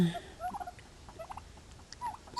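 A turkey on a homestead gobbles in several short, rapid bursts at middling distance against quiet outdoor background.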